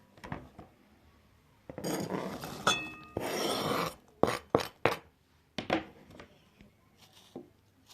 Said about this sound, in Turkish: Şimdi domateslerimizi de doğrayalım.